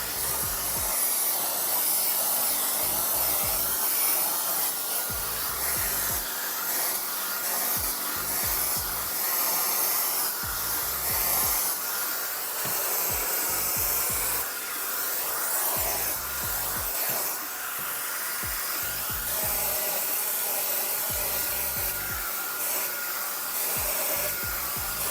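A Neakasa Magic 1 portable vacuum garment steamer works over a wrinkled shirt with a continuous loud hissing, blowing rush, roughened by fabric rubbing and fluttering throughout.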